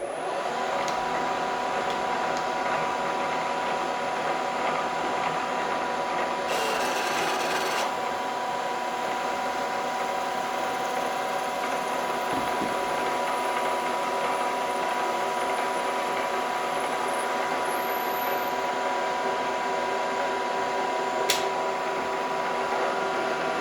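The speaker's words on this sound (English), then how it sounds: "I'm going to give the reamer as much feed as I possibly can, so 6 thou per rev" A reamer cuts a hole in a mini steam engine part at a heavy 6 thou per rev feed with plenty of cutting oil, giving a steady, continuous mechanical grinding hum that runs unbroken throughout, with no talking.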